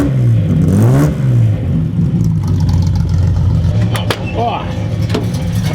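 A Datsun 240Z Fairlady Z S30 pulls away with its engine running at a raised idle after choke use. A loud, steady engine drone rises in pitch as it revs, and voices speak over it.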